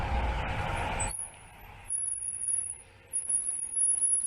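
A bus in played-back road footage gives a loud burst of engine rumble and air-brake hiss for about a second, then drops to a quieter traffic background with faint hiss.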